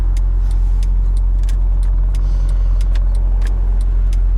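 A 2012 Mercedes-Benz SLS AMG Roadster drives with the top down, its engine a deep, steady, close rumble with a strong low drone and scattered light ticks above it, with no talking.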